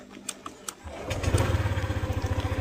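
A motorcycle engine is warmed up before a ride through a storm: a few faint clicks, then the engine catches and settles into a steady, close, throbbing idle with a regular pulsing rhythm, no talk.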